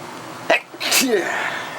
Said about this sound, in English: had a sneeze there